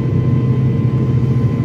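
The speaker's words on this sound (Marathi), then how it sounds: "येणाऱ्या पुढच्या काही वेळातच प्लेन टेक ऑफ करेल." Airliner engines holding at a steady loud idle before takeoff on a Kannur to Mumbai flight, a dense continuous low roar and hum heard from inside the cabin with no break.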